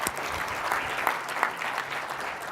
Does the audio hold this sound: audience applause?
yes